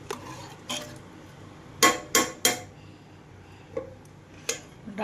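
A lid set over a cooking pot of vegetable curry with tomato and water, several quick metallic clanks and clinks in a short cluster, close and fairly crisp over a faint room background.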